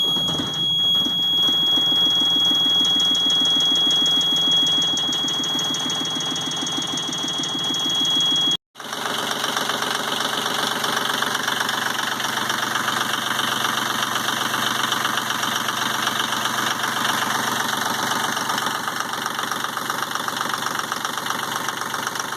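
A Yanmar 30hp marine diesel engine with about 2,757 hours idles after a cold start, a loud steady mechanical clatter that cuts out briefly partway through, then resumes as an even, continuous idle.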